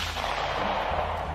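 VSS suppressed rifle firing: a dense, continuous burst of muffled, rumbling shots, loud and steady throughout with no talk.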